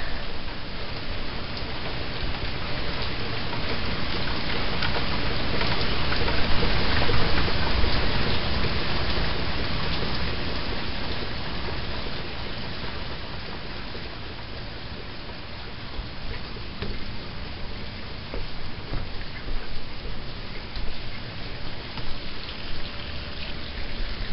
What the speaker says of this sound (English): The rain might be like this.